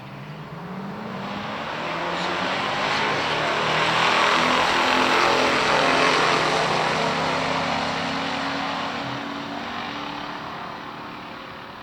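A 1971 AMC Javelin 401 and a 1972 Buick GSX 455 race down a drag strip, a broad engine roar swelling to a loud peak mid-way and then easing off as the cars pass, with no talk.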